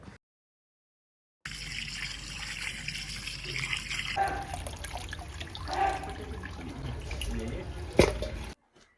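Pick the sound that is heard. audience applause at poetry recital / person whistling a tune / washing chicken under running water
washing chicken under running water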